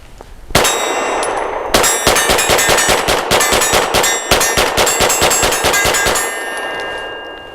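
Rapid string of shots from a Tisas PX-9 Gen 3 pistol firing Blazer brass ammunition, loud sharp cracks with ringing metallic echo, a single shot followed by a fast steady volley of about twenty rounds at close range outdoors.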